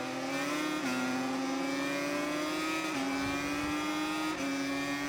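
A race car engine in a Le Mans racing video game revs high and loud, pitch climbing then dropping briefly at each gear shift, repeated three times with no voices.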